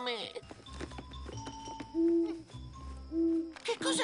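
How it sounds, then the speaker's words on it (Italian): Owl in a Richard Scarry cartoon hooting twice, two sustained low hoots over a soft musical background. "È solo un gufo."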